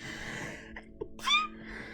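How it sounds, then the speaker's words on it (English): A single sharp sneeze close to the microphone, preceded by a quick intake of breath against quiet background hum. "I'm going to sneeze."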